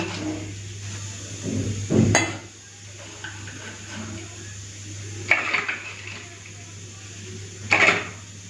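Amaranth (note) greens are cut by someone standing at a kitchen counter, making a few separate knife strikes spaced seconds apart over a steady low hum.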